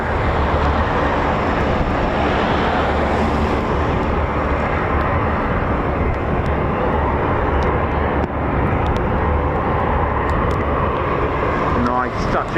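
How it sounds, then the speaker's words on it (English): KC-135 jet engines roaring during a touch and go at an RAF base, a dense sustained rumble heard at a distance throughout, with voices briefly audible over it. "Nice touch and go on the KC-135."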